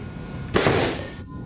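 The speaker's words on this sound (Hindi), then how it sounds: "हमने आलू तोप से प्रोजेक्टाइल को ऊपर से फायर करने का फैसला किया।" A potato cannon fires a projectile upward near a strong magnet, one sudden loud whoosh-bang that decays over about half a second, then quiet.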